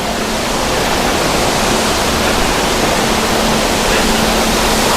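An indoor waterfall exhibit at a science and history museum in Pathum Thani, near Bangkok, gives off a steady, loud, broadband rush of falling water that holds constant throughout with no pauses.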